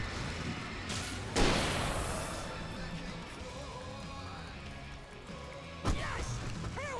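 A flashbang grenade bursts in the video game Alan Wake, a sharp loud bang that rings out once near the start and again later, each followed by a decaying wash over continuous game background noise.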